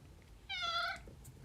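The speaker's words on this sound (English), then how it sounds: "Who has come to say hi? So we get bonus cat content." A house cat gives a single short, clear meow close by, over a low background hum.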